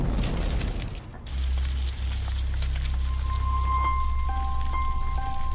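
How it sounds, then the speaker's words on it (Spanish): Freezing rain falls steadily during an ice storm, a continuous patter of drops on surfaces with a low rumble beneath, no voices present. "Miles de millones de gotas heladas de lluvia cayendo durante horas crean capas de hielo"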